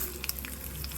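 Urad dal and mustard seeds fry in hot oil as tempering for amla chutney, giving a steady close sizzle dotted with small pops and crackles, with no speech.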